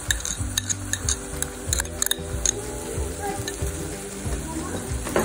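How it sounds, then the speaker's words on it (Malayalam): Chilli paneer sauce is stirred in a pan, a spoon scraping and tapping in a steady rhythm over a low sizzle, close and moderately loud. "എല്ലാം കൂടി നന്നായിട്ടൊന്ന് മിക്സ് ചെയ്ത് കൊടുക്കാം"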